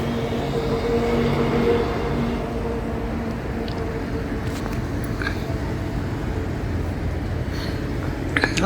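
A low, steady rumble of a metro train running on rails at Alandur station, with a faint hum early on and a few light clicks and squeaks, heard from inside or nearby.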